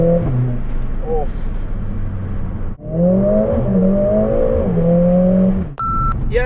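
A Mercedes A45 AMG hot hatch accelerating hard, its engine note rising through two gear pulls separated by a brief shift dip, with electronic beeps chiming in the cabin.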